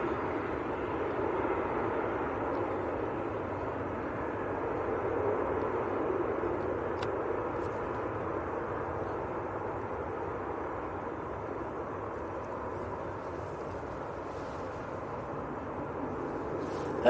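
An Airbus A380 landing at Manchester Airport, a steady broad roar of engines and airflow heard from a distance, holding even throughout with no voices.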